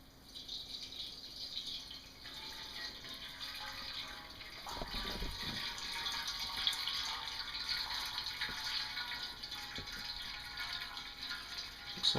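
Water runs steadily from a 10-gallon cooler mash tun during an all-grain rye IPA home brew, a continuous close splashing hiss with a few soft knocks partway through.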